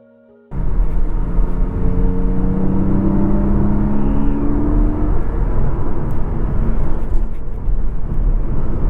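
A Porsche Cayman making almost 400 horsepower at the wheels bursts from quiet into a loud, sustained engine roar. The pitch climbs steadily as the car accelerates on the road, and the sound stays dense and close the whole time.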